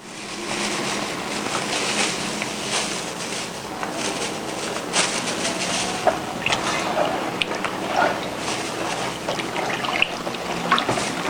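Water pours onto a quarter kilogram of soda ash to dissolve it, a steady trickling, splashing flow with small fizzy crackles throughout.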